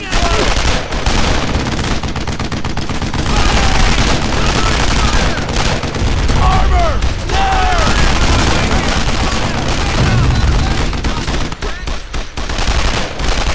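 Intense game gunfire in Brothers in Arms: Earned in Blood, rapid machine-gun bursts and rifle shots laying down covering fire in a dense, continuous loud barrage, with shouted voices mixed in.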